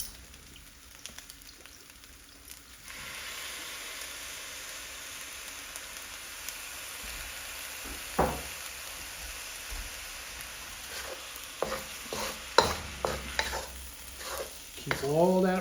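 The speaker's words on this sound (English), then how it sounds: "Keep all that rice moving so each grain gets in contact with that hot wok" Shrimp and rice are stir-fried in a hot wok with soy sauce, a soft steady sizzle punctuated by scattered scraping and tossing clatters from the spatula, fairly quiet and with no talking.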